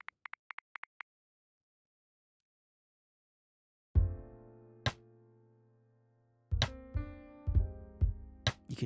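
A drum groove with heavy 16th-note swing: a few quick light ticks, a pause, then booming kick-and-cymbal hits with ringing sustain that return in an uneven, lilting pattern toward the end.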